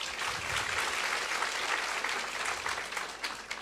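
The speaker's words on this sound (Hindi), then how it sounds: "सवाल के लिए तालियां बजाइए।" An indoor audience at a spiritual discourse breaks into dense, steady applause, close and continuous for the whole stretch with no talk over it.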